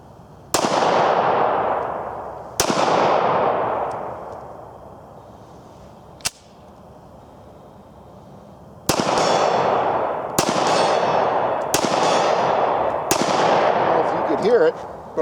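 Gunshots ring out against steel targets, about seven sharp, loud reports spaced a second or more apart, each followed by a long metallic and echoing decay.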